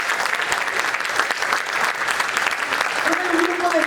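Church congregation applauding during a sermon, a strong sustained wave of clapping from many people that fills the room, with a brief tonal voice or instrument rising near the end.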